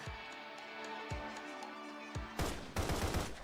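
Gunshots from a Browning M1910 pistol in a video game: a quick series of sharp cracks, a few spaced shots followed by a louder burst near the end, with no talk.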